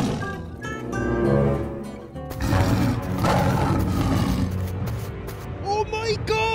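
A tiger gives a long, rough, loud roar that swells and fades over several seconds, with a second surge partway through, near and dense, ending with brief cries, in a farm-animal diorama scene.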